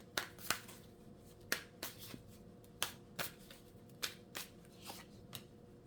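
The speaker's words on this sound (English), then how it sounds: "Let's pull 3 cards over there." Tarot cards being pulled from a deck, a series of soft crisp snaps and flicks, about a dozen spaced irregularly, close and quiet against a faint room hum.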